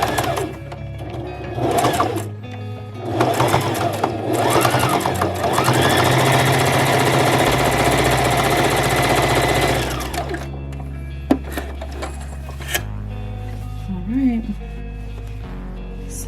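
A sewing machine runs in long bursts while top stitching a clutch wallet, steady and close, stopping and starting with brief pauses and handling noises between runs.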